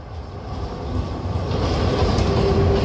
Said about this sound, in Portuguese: Passando o trem urbano, ó.